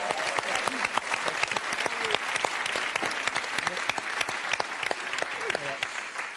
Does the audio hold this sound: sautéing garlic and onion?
no